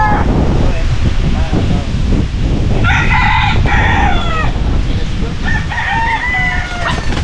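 Chickens cluck and a rooster crows loudly several times, close by outdoors with wind buffeting the microphone, while people talk nearby.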